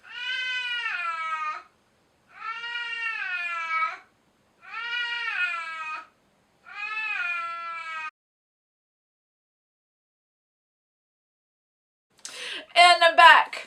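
A pet cat meows in four long, drawn-out, close and clear calls separated by short pauses, followed after a silence by a brief burst of a person speaking.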